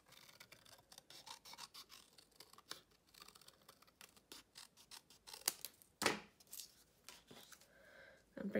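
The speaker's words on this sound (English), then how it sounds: "And then I'm going to cut that out." Scissors cutting out card for a handmade tropical greeting card, a close run of crisp snipping and scraping blade strokes in an irregular rhythm, with a few louder cuts and no talking.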